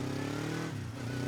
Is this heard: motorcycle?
yes